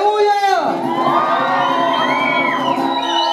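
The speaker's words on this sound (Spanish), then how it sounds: "Regálenme una bulla." A crowd cheers, whoops and shouts loudly at a quinceañera party with a youth mariachi band, a dense, sustained roar of voices with high children's shrieks rising over it throughout.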